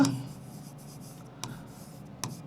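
Writing on a board, soft rubbing strokes at low level with two brief sharper taps, under faint background noise.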